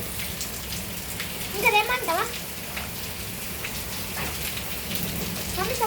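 Large hailstones pound crops in a field in Rajanna Sircilla district, making a dense, continuous patter, with a voice briefly heard over the steady roar.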